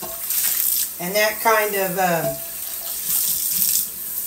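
Water running from a kitchen sink tap into a hot pan, a steady close rush with a sizzling edge as water hits the hot surface, under someone talking in the middle.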